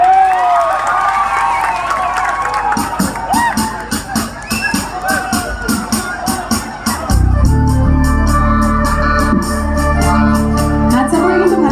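Audience clapping and cheering at a jubilee music event in Jamugurihat, crowd noise and claps carrying for several seconds before music starts up with loud rhythmic beats.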